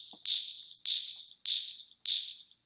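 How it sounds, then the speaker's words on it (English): Metronome keeping tempo: four evenly spaced, bright electronic beeps with sharp onsets, fairly faint and alone, ringing briefly before the next tick. "A metronome will be the click sound you hear,"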